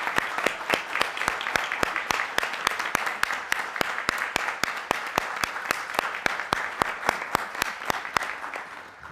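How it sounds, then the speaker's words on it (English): Conference delegates giving a round of applause to the conference services team, a sustained, even patter of many hands clapping with a few sharper individual claps throughout. "I would propose we give a round of applause to our great conference services team"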